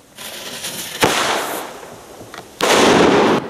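Monkey-repelling firecracker cannon blasts in an orchard: two loud, close booms, each followed by a long, roaring rumble and noisy echo fading away, with no voices.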